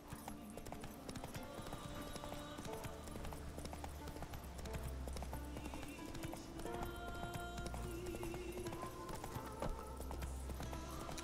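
Hooves clip-clop steadily at a gallop from a horse in The Witcher 3, a continuous rhythmic drumming close up, with game music and ambience running underneath.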